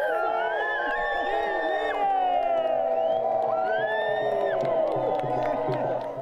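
A crowd cheers for the Smelt Queen at a smelt parade, loud whoops and shouting voices rising together in a sustained roar with scattered clapping.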